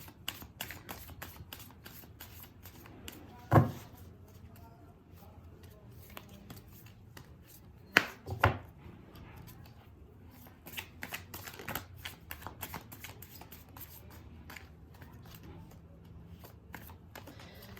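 Tarot cards being shuffled by hand in a steady riffling patter of soft paper flicks and slides, with a couple of sharper taps standing out, close and fairly quiet throughout.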